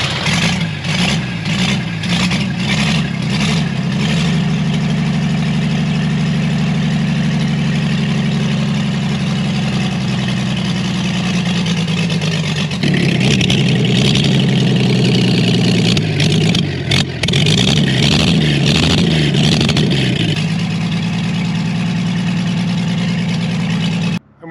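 A Chevrolet Blue Flame Stovebolt Six inline-six engine runs steadily at idle, close and loud for the whole stretch. A deep, even rumble holds throughout, and brief shifts in pitch suggest light throttle changes. No one speaks.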